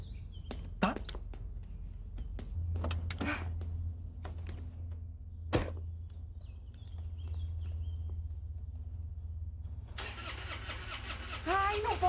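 Car engine cranking and failing to start: repeated short starter bursts with pauses, fairly close, under a woman's speech, before another engine catches and runs at the end.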